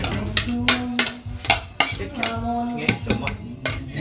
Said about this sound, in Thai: ตำมันแหลกนะครับตำให้ละเอียด